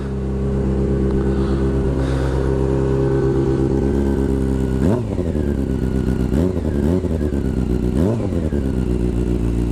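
A Honda CBR600 F4i motorcycle with an aftermarket exhaust idles with a loud, steady, throbbing burble. Three quick throttle blips rise and fall back to idle, close to the bike, with no voices.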